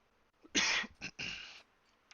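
A few harsh coughs close to the microphone, one strong burst followed by a short one and a longer rasping cough, then quiet.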